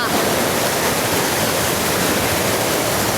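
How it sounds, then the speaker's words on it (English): Waterfall at High Falls Gorge roaring as a dense, constant broadband rush of falling water, loud and close, steady for the whole stretch with no talking. "Kind of neat to see the waterfalls from the back, huh?"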